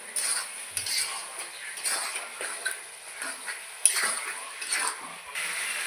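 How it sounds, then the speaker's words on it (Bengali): Chicken pieces being stir-fried (kosha) with salt and chili powder in a pan for dhania chicken, with a faint sizzle under repeated scrapes and clinks of a metal spoon against the pan, irregular and close. "মাংস কষানো হচ্ছে"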